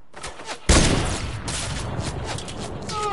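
Turret gunfire in a video game erupts as a sudden loud burst of rapid shots, then a sustained rattling barrage with booming impacts fills the rest of the moment, close and dense.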